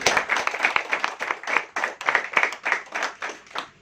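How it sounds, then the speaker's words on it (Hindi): Rhythmic, loud group clapping at a farewell ceremony for Lalji, a colleague retiring after 28 years of service, in steady regular bursts. "एक बार जोरदार तालियां इनके लिए"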